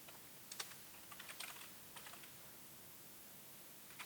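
Computer keyboard keys tapped while typing code, a quiet irregular patter of soft clicks in short bursts with brief pauses, close and faint against low background hiss.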